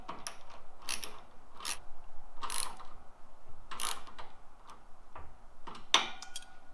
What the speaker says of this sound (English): I'm going to take my 13mm wrench on the bottom here, socket wrench on the top. And we're going to tighten this up.